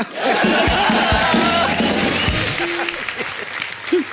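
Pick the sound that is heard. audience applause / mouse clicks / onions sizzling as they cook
audience applause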